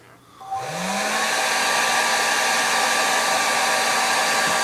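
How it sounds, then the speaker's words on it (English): A hair dryer on its low setting whirs to life, its motor pitch rising, then runs in a steady, fairly loud whoosh with no talking. "I'm going to actually turn the blow dryer on low"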